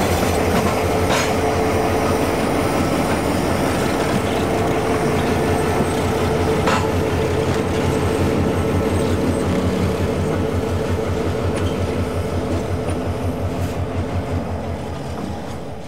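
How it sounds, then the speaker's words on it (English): A freight train backs eight log cars slowly in North Carolina with continuous rumbling and rhythmic clickety-clack of wheels over rail joints, occasional metallic squeals, steady throughout. "the crew backs the 8 cars into the facility"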